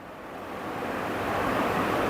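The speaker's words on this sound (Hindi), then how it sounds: "समंदर की लहरें जोर मार रही हैं" Tsunami surge of ocean waves along the Japanese coast, a steady broad roaring wash that builds slightly in loudness throughout, with no voices.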